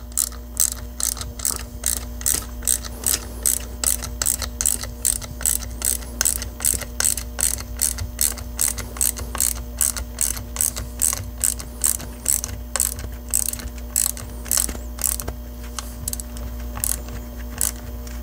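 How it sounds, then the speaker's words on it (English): A ratchet tightens the nut on an Audi C7 CWA-100 coolant pump with a long, steady run of rapid, evenly spaced clicks, close and clear over a low background hum. "So we can get our nut started and tighten this thing up."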